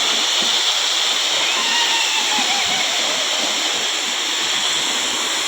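A village waterfall in the Konkan countryside pours in a steady, loud, broadband roar of falling water that stays constant throughout without pause.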